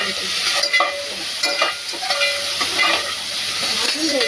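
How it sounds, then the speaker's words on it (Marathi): Ginger-garlic paste and onions frying in a pan for chicken biryani, a loud, steady sizzle broken by the scrape of stirring, close and continuous without talk. "1 चमचा मी आलं लसणाची पेस्ट टाकली त्याच्यात. थोडी भाजून घ्यायची"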